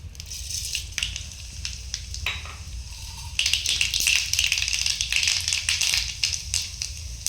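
Mustard seeds crackle and sizzle in hot sesame oil in a pan, a steady spitting hiss that grows denser and louder midway, with scattered sharp pops.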